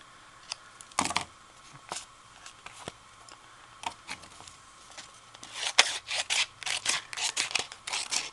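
Quiet room with a series of sharp snips and crisp paper cuts, sparse at first and then quicker and denser toward the end.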